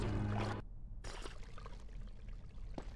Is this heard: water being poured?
yes